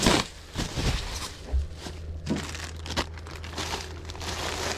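Packing paper is crumpled and pressed into a shipping box, a run of loud, close crinkling and rustling bursts with brief pauses between handfuls.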